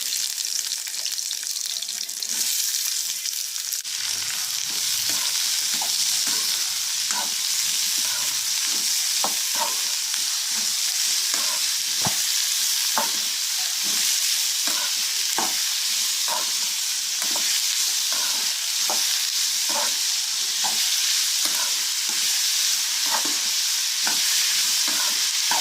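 Chopped onions frying in hot oil for a Tamil-style beef masala, a loud steady sizzle with repeated clicks and scrapes of stirring throughout, close up and without talk.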